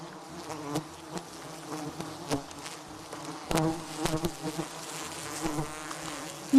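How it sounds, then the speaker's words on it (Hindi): Wild honey bees buzz around a hive in the jungle, a close, steady insect drone with individual bees swelling loudly as they pass near, with no voices. "कुछ एक मधुमक्खियां मानो टोह लेने निकल पड़ती हैं।"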